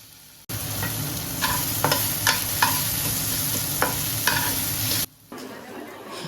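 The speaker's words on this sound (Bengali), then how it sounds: "এবার যাচ্ছে আদা বাটাটা, আদা আর হিং বাটাটা নাড়াচাড়া একটু করে নিতে হবে" Ginger and asafoetida paste frying in a pan, stirred with a spoon that scrapes and taps the metal several times over a steady sizzle, fairly close and alone.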